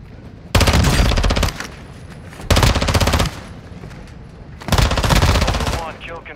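Video game gunfire in a squad combat match: three long bursts of loud, rapid machine-gun fire separated by short pauses, close and dominant, with faint background game sounds between bursts.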